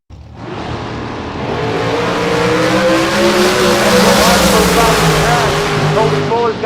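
A Race Tech dragster at a bracket drag race roars down the strip, a loud sustained engine howl rising in pitch with tire noise, while an announcer talks over it.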